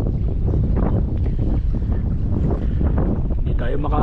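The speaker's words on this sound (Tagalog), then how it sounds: "malakas ang agos, malakas ang alon." Loud rushing water and wind buffeting the microphone, like a boat pushing through rough waves, steady and close throughout.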